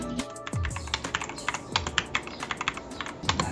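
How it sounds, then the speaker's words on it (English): Typing on a Zifriend ZA63 Pro mechanical keyboard fitted with yellow switches: a steady run of close, crisp keystrokes in an irregular rhythm, with a few deeper thocks, no voices. "let's try to turn on this keyboard. Yeah, let's see. And this is how it sounds like."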